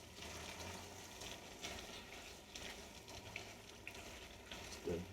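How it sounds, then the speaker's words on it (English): Chili with black beans stirred lightly in a pot, giving a soft continuous wet sizzle and scraping swirl, steady and close, with no talking. "Give that a little stir."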